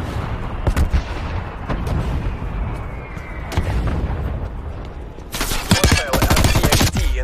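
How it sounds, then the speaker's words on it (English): An artillery strike in Call of Duty: Black Ops Cold War: a dense barrage of booming blasts and sharp impacts rolls on continuously, swelling into a louder, harsher cluster of explosions near the end. "Artillery inbound."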